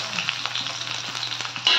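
Onions fry gently in oil in a wok (kadai), giving a light, continuous sizzle with small pops and crackles, close by over a faint steady hum, swelling slightly louder at the end.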